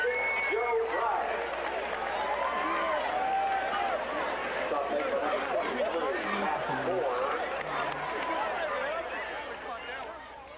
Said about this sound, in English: Oh, we can hear the crowd this week.